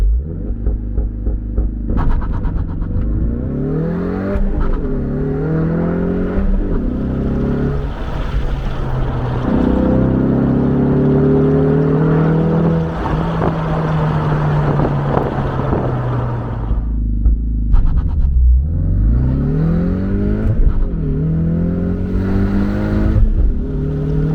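A 2020 Ford Mustang EcoBoost High-Performance Package engine revving hard through repeated gear changes, pitch climbing and dropping with each shift, accompanied by steady wind buffeting close to the microphone.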